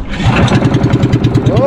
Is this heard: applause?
no